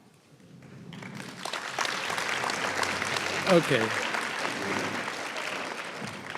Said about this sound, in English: we'll honor them at the end with applause